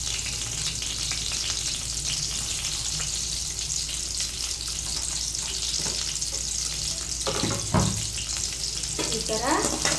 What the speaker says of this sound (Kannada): ಈ ಥರ ಇದನ್ನು ಹೀಗೆ ಫ್ರೈ ಮಾಡ್ಕೋಬೇಕು ನಿಧಾನವಾಗಿ.